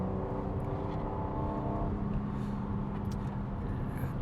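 Inside a 2021 BMW M3 Competition sedan with its 3.0-litre engine taking a corner, a steady low engine drone and road rumble fill the cabin, loud and continuous without anyone speaking.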